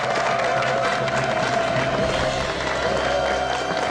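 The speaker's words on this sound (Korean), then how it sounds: "송재철 원장님 박수로 환영해 주십시오" A Korean TV studio audience claps and cheers to welcome a guest, a Korean medicine doctor, a loud, dense wash of applause that holds steady the whole time.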